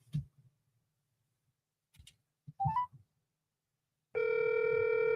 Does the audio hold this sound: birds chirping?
no